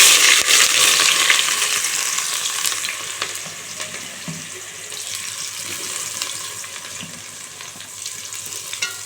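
Thinly sliced onions frying in hot oil for mutton biryani give a loud, close, continuous crackling sizzle, strongest at the start and easing slightly, with occasional stirring and no voices.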